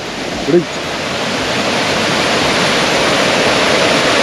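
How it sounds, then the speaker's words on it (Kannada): Rushing water roars steadily from a nearby waterfall near Dharmasthala, a broad constant hiss, with a brief voice near the start. "ಎಲ್ಲ ಫಾಲ್ಸ್ ನೀರು ಅನ್ಸುತ್ತೆ"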